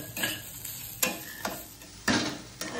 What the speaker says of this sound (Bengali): একটু সেই জন্য বেশি করে ভেজে দিচ্ছি কম তেলে